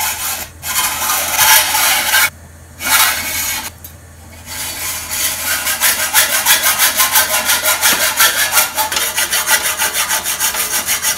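Hand saw cutting through the steel blades of a bicycle fork: loud, steady back-and-forth rasping strokes in a fast even rhythm, with a few brief pauses early on before a long continuous run of sawing.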